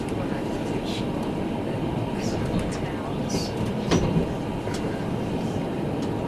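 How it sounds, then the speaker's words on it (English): A train coming the other way rumbles past a train in Switzerland, with a steady rolling roar and faint rhythmic rail clatter, heard from close by. "There's a train coming the other way or something."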